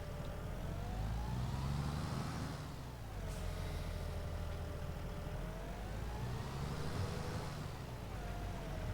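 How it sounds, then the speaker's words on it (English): Steady engine drone of a combine harvester in a farming video game, a loud continuous hum whose pitch slowly rises and falls in two sweeping swells as the machine approaches. "I hear a combine coming up."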